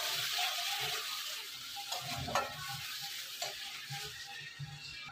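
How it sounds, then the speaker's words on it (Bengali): Cumin, ginger and coriander powder being stirred with tomato in a frying pan, a steady close sizzle with intermittent scraping strokes of the spoon throughout. "এখন দেবো জিরার গুঁড়ো, আদার গুঁড়ো, ধনার গুঁড়ো দিয়ে ভালো করে নেড়ে নেব।"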